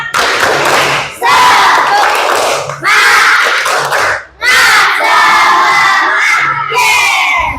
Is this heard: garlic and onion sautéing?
no